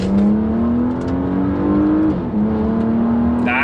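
Porsche Panamera Sport Turismo eHybrid with a PDK gearbox accelerating hard in sport mode with the sports exhaust open, engine tone climbing steadily, dropping briefly at a gear change, then rising again, loud and close with no talk.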